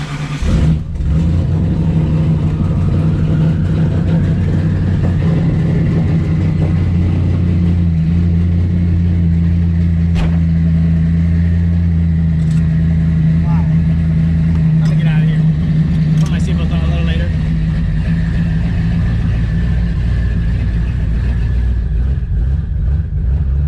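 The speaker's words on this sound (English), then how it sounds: "I'll drive it the back way home with the cutouts open this time" A twin-turbo 2003 Ford Cobra with a Coyote engine and 6R80 transmission drives with its exhaust cutouts open, a loud, steady engine drone with gear changes and swells in revs heard from inside the car.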